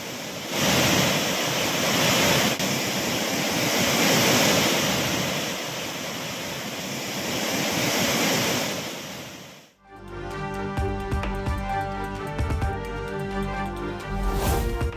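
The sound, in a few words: flooding Cauvery river at Hogenakkal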